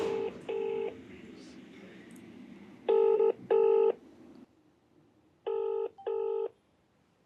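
A telephone rings in paired bursts, three double-rings of a bright electronic tone spaced evenly apart, with faint background murmur between them.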